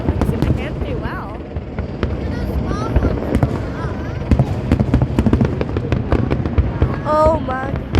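Fireworks explode nonstop in a loud, crackling barrage of sharp bursts and whistling rises, with people talking and exclaiming over the display.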